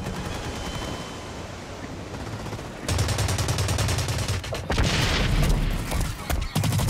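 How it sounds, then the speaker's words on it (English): Gunfire and heavy blasts in the Blacklight Retribution video game, including a rocket launcher. Steady shooting runs underneath, then a loud boom lands partway through, followed by another louder burst of explosive fire near the end. "Holy shit, that's a fucking rocket launcher."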